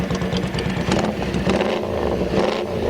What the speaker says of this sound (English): It's powered by a Honda 500cc GL engine with operational hydraulic